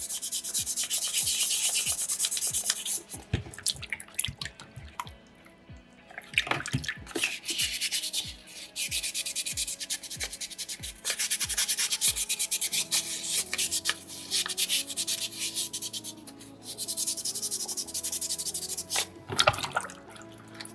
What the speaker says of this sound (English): I just kind of leave the sandpaper open and then just use as much of my hand as I can to push that sandpaper around